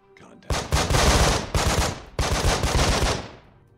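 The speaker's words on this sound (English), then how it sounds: "I took a little fire by Shepard" Three long bursts of rapid automatic gunfire ring out in the Breach & Clear video game, loud and close, with short gaps between them and no talk.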